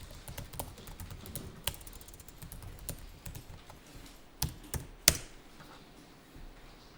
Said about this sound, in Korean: 여기다가 주소를 타이핑하면 되겠죠?